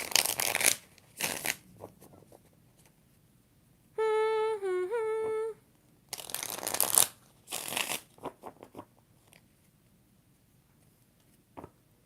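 Tarot cards are riffled and shuffled in several short crisp bursts, with a brief synthetic chime in between and pauses of quiet, close to the listener.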